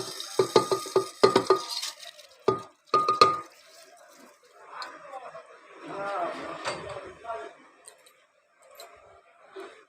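Rice poured into a pressure cooker makes a few sharp clattering bursts early on, then a softer rustle and shuffle with someone talking over parts of it.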